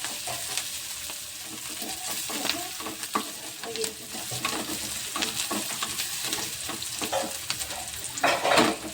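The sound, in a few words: onion and curry leaves frying in oil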